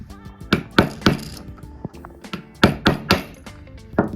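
A screwdriver pries a wafer out of a camlock lock barrel, giving a quick run of sharp metallic clicks and light taps, close up and irregularly spaced, with no talk.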